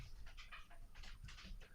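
Ludo the dog pants rapidly and rhythmically close by, a steady run of quick breathy huffs, faint and alone without any voices.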